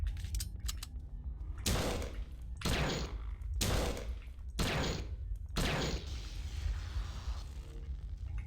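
Bursts of gunfire from a gun in System Shock 2 ring out close and loud, roughly six sharp shots spaced about a second apart, each with a short decaying tail.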